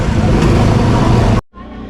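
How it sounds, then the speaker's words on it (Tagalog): Loud, dense road traffic with car and vehicle engine rumble fills most of the moment on a hot Philippine afternoon, then cuts off abruptly to a quieter, thinner hum for the final half second. "Traffic."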